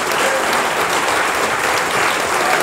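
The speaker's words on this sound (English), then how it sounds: "would you give an enormous round of applause to the grilled panel" A room of attendees at an environment and climate change election hustings gives the panel a big round of applause, steady and full-bodied clapping that carries evenly from start to finish without talk.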